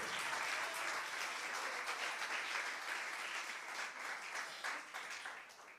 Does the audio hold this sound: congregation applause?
yes